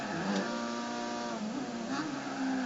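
Racing cars in a league race run close together, a steady, loud engine drone with shifting revs and no break, alone without talk.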